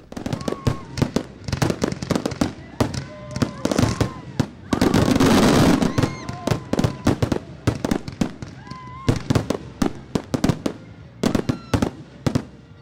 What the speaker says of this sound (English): The evening came to an end just after sunset with an impressive fireworks display.